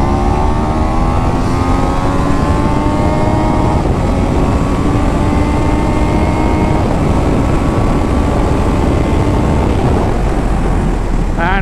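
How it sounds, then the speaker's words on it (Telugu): A Triumph Daytona 660 motorcycle with its 660 cc engine, heard while riding: loud, steady engine drone with rising harmonic tones under heavy wind rush, no one talking. "మనం ఒక 660 cc ఇంజన్ పరంగా చూసుకుంటే దిస్ ఈజ్ వెరీ గుడ్"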